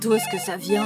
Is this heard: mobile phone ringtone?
yes